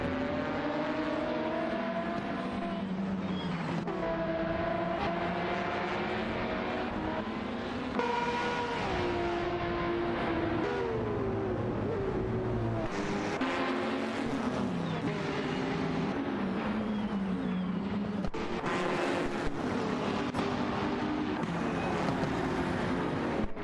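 Simulated race car engines from a racing video game, including a Ferrari 488 GT3 and BMW M6 GT, droning and shifting pitch continuously, with several cars overlapping in a dense, steady roar.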